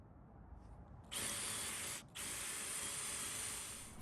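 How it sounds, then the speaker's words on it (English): Power drill boring halfway through a wooden swing set beam, a steady loud whir that starts after a second, breaks off briefly, then runs on to the end. "mark the hole, and drill halfway through."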